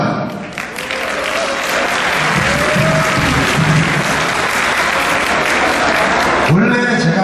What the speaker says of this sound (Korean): 우리 권영호하고 박정민 초대 회장과 총무에게 한번 박수 부탁합니다.